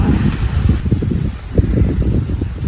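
Gusty wind buffets the microphone outdoors in a yard at midday, a close, low rumbling rush that swells and eases for a few seconds.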